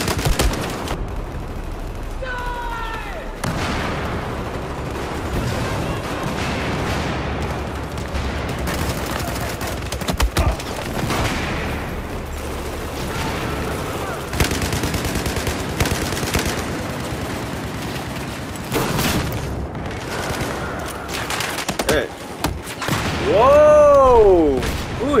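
Rapid bursts of gunfire ring out in a shooter video game, repeated volleys and scattered shots aimed at the player across the stretch, loud and close, with occasional short voice reactions mixed in.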